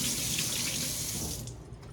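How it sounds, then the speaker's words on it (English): A finger rinsed under a running faucet, a close steady stream of tap water splashing into a sink that fades slightly as the flow ends. "Rinse my finger off."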